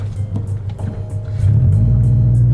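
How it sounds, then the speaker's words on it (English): A deep, throaty Subaru boxer engine with an unequal-length header rumbles at an uneven idle, then swells louder and steadier as the revs come up slightly. "You get that Subaru rumble that you don't get with the equal length."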